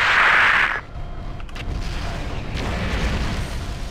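A destroyed target explodes in Mechwarrior 4: Black Knight, a loud roaring blast at the start that cuts off abruptly, followed by a lower rumbling game soundscape that continues to the end.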